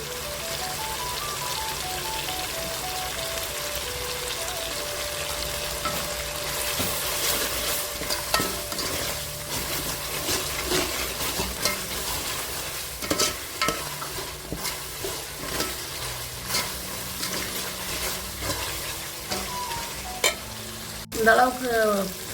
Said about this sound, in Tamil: இது பச்சை வாசனை வதக்கிக்கலாம்.